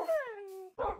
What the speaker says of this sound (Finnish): Viimeiset 2 koiraa sitten.